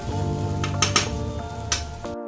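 Rice being stirred and tossed in a pan for homemade fried rice, with steady scraping and clinking of a utensil against the pan over a soft sizzle, plus a few louder clanks.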